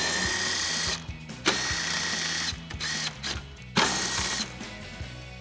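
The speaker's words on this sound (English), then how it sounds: "So we're going to remove all 3 of these at the same time with our 10mm socket." A 10mm socket on a ratchet spins out grille bolts on a 2019-2024 RAM 2500, giving close, rapid clicking ratchet bursts separated by short pauses and sharp metallic knocks.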